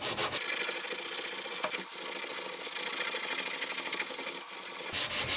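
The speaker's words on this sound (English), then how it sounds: "I got an old kind of scrubby sponge. I'm gonna get some on here and just start rubbing it in." Steady, close rubbing of an old scrubby sponge working The Pink Stuff cleaning paste across an oven surface, a continuous abrasive scrub with brief pauses near the start and end, no talking.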